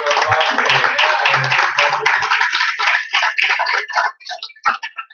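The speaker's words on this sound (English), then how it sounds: "let's give a round of applause to John Bocskay" Audience applause for an author at a live-streamed author panel, a dense spread of clapping that fills the first four seconds and thins into scattered claps before fading.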